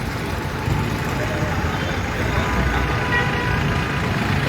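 Trucks and other vehicles sit jammed at Sardar Chowk in Jetpur, a dense continuous rumble of idling and crawling engines with a faint tonal horn or beep, steady and close throughout.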